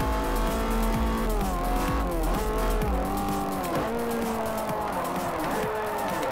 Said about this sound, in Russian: А, дрифт?